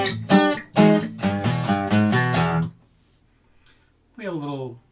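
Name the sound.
guitar bass run up, measures 90-91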